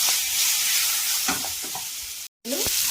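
Chopped ivy gourd pieces fry in hot oil with a steady bright sizzle, broken by a few clinks of a spoon stirring and a short gap of silence near the end before the sizzling resumes.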